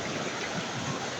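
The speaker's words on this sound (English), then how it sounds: "This is Kral waterfall." Kral waterfall in Cambodia, a broad cascade rather than a high cliff drop, rushes with a steady, dense wash of water noise close by, unbroken and without talk.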